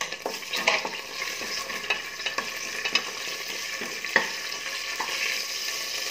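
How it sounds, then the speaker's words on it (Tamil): Whole spices such as bay leaf, cinnamon, fennel and cloves crackle and sizzle in hot oil in a cooker for vegetable biryani, a steady near frying hiss with small pops and occasional stirring clinks, no voices. "எண்ணெய் சூடானதும் இந்த மசாலா ஐட்டம்ஸ் வந்து ஒன்றொன்றா இதில் சேர்த்துடலாம்."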